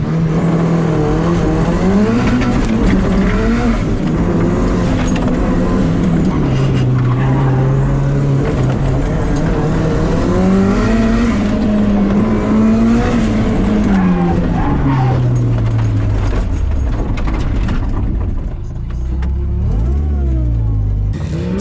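A roadster races at a night autocross event. Its engine revs loudly and continuously up close, rising and falling in pitch through shifts and corners, with no talk.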